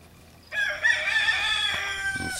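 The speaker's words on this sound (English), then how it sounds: "Excuse the rooster over there." A rooster crows once nearby, a loud, drawn-out cock-a-doodle-doo that starts abruptly and holds for about two seconds, with no one talking.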